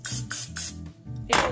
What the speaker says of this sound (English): I've got my cooking spray down